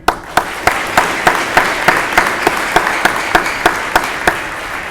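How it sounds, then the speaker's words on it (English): Applause for a drill team and cadet company staff after a ceremony at a Marine Corps JROTC birthday ball: a sustained wash of crowd clapping with a steady, rhythmic series of sharp, louder claps standing out at regular intervals throughout. "I want to ask that we give a round of applause to our drill team and our cadet company staff for this wonderful ceremony."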